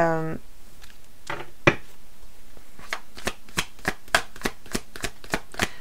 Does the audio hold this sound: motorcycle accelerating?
no